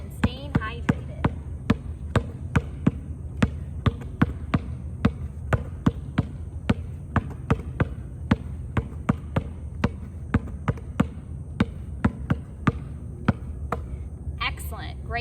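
A basketball dribbled during a workout, bouncing in a steady, quick rhythm of sharp, punchy thumps on a hard floor for the whole stretch, with faint background room noise.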